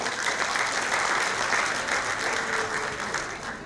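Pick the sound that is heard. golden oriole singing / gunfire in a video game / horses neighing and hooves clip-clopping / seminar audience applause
seminar audience applause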